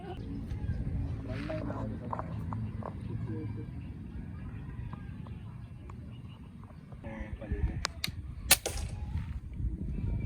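Air gun shots fired at a target during a friendly airgun shooting game, a few sharp cracks standing out, the loudest near the end, over steady background murmur and quiet talk.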